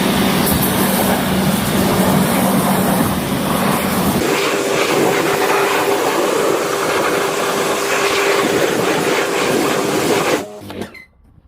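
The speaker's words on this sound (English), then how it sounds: "let's rinse the wheel off and let's see the results of the clean wheel." Water sprays hard onto a car wheel in a loud, continuous close-up hiss that shifts tone partway through as the jet moves, then cuts off at the end, with no talking.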